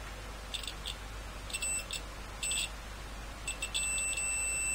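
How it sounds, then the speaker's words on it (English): A thin multimeter continuity tone beeps in several short bursts while testing a TDA2020 amplifier, then holds as a longer continuous beep at the end, over a faint steady hum. "Do we get a beep here?"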